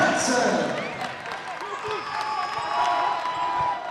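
A crowd at a college basketball game between Adrian College and Albion cheers and applauds, a steady roar of clapping and voices under a commentator talking.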